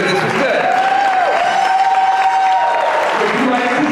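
A crowd at a speaking event breaks into a round of applause, a dense, steady patter of clapping with cheering mixed in, while a voice carries on over it.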